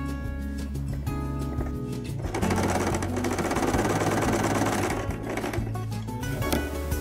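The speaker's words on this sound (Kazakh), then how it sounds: "Бір тігіс жүргіздім, енді қасынан тағы бір тігіс жүргізем." An electric sewing machine stitches a seam along the edge of an embroidered scarf, a close rapid mechanical chatter in one sustained run, with quieter whirring and handling sounds before and after it.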